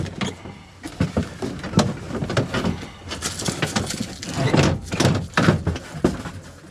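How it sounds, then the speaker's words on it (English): Seat being removed from a Polaris Ranger UTV: a series of close, sharp clunks, thumps and plastic rattles as it is handled and pulled free, with no talking. "let me take this seat off"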